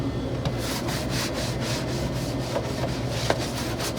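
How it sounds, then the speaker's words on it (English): A cloth wipes down the bare metal interior of a Jeep Rubicon during restoration, making rapid, rhythmic rubbing strokes up close, an even scrubbing cadence with no voices. "wipe it out with the cloth"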